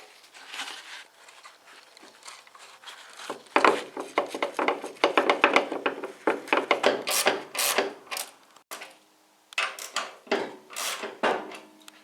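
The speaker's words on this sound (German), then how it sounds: "Dann setzt er die U-Scheibe an und dreht die Mutter vorsichtig ein bisschen auf." A nut and washer are threaded by hand onto a VW Golf shock absorber during replacement, giving close, irregular metallic scraping, rubbing and small ratcheting clicks that grow busier partway through, with no voices.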